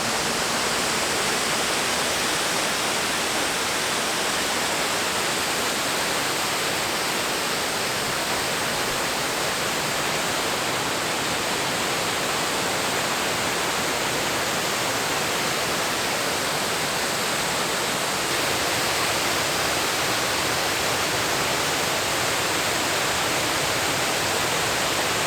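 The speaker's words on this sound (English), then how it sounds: "I made it to the waterfall" A waterfall with a straight drop of about fifty feet into a clear creek roars steadily and loudly throughout, a dense unbroken rush with no other sounds.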